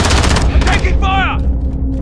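Rapid bursts of gunfire in the video game Call of Duty: Modern Warfare crackle at the start, followed by a voice speaking over the remaining battle noise.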